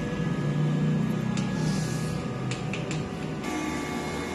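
A DTF printer running in a print shop, a steady mechanical hum and whir with a constant tone, and brief clicks and carriage movements partway through.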